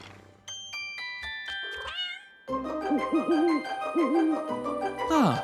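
A kitten meowing in a cartoon, several wavering musical meows sung over a melodic score, rising and falling close and clear after soft chime-like notes.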